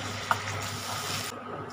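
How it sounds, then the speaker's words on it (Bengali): Onion and spices are stirred in a hot pan while cooking a Bengali dhokar dalna, giving a soft, steady sizzle with a faint scrape of the spoon. "এবার আমি এই পেঁয়াজটাও দিয়ে দিচ্ছি। এটা একটু নাড়ব"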